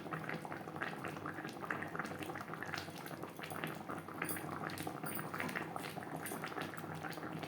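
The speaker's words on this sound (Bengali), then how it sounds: "গ্রেভির সাথে মাছ বেশ ভালো করে সেদ্ধ হয়ে গেছে" Rui fish curry simmers in its gravy, bubbling and sputtering steadily in the pan, close and quiet, with no talking.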